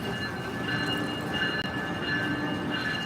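Train rolling past: a steady rumble of wheels and carriages with a faint high metallic ring, constant and fairly close throughout the few seconds.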